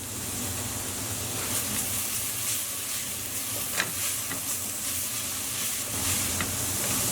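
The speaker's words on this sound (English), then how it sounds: "we just want to very lightly cook this on a low to medium heat until our onions have softened up a little" Onions and garlic frying lightly in a pan over low to medium heat for a Persian soup, giving a steady, soft sizzle with faint crackles throughout and no talking.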